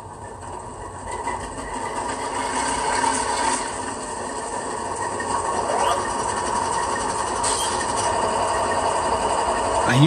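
An HO scale Athearn Genesis AC4400CW model locomotive in Southern Pacific livery runs steadily, giving a continuous close mechanical hum and motor whir with a low, throaty sound-unit rumble, and no voices.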